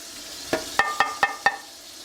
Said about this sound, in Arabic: بهاراتنا مثل ما هن رح ننزلهم هلا فوق البندورة وباقي المكونات